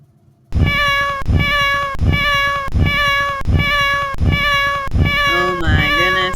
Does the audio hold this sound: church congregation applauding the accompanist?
no